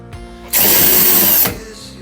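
A power screwdriver whirs in one loud, close burst of about a second while unscrewing the cover screws on an Electrolux dishwasher, with quiet moments before and after.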